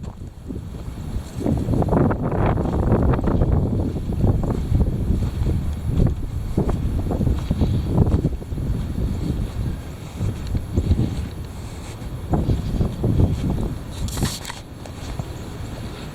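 Heavy wind gusts outdoors batter the microphone in irregular roaring surges, rising and falling throughout, with no voices.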